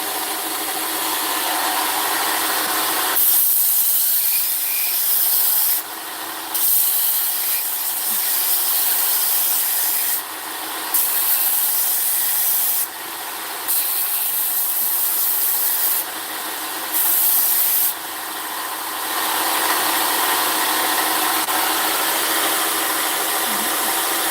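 A knife bevel ground against a powered sanding machine, giving a loud, steady, motorised abrasive whine that runs almost continuously and dips briefly several times as the blade is lifted and repositioned.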